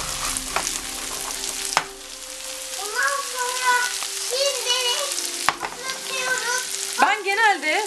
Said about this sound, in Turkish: Soğanları kavuruyorum.